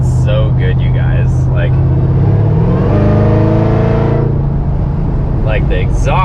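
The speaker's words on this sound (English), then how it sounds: "Like the exhaust, that Flowmaster intake, it all sounds so good. Like you can hear that blower whining so loud." A Hellcat-swapped Dodge Dakota with Flowmaster intake and exhaust holds a steady loud engine note that rises in a rev midway, a supercharger whine layered above, with brief voices over the drone near the start and end.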